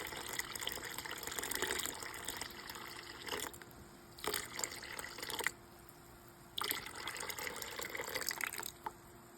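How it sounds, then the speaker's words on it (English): Warm water, heated briefly in a microwave, pours in bursts into sourdough bread dough, a steady gushing fill broken by short pauses, close and clear. "Now I'm gonna add 945 grams of water."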